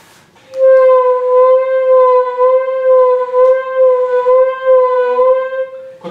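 Saxophone holding a sustained high A, played slowly as a long steady tone with rich harmonics, loud and alone with no talking.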